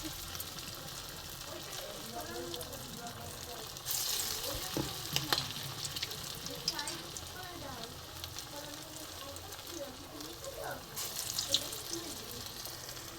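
Gima saag fritters fry in hot oil in a wok, giving a continuous close sizzle and bubbling with occasional stirring, while a voice speaks softly now and then.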